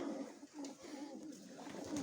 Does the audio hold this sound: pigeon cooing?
yes